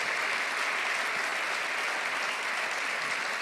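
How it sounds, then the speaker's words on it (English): Steady, dense applause from an interview audience, loud and continuous throughout with no pauses. "could I ask you to give Sadhguru a big round of applause?"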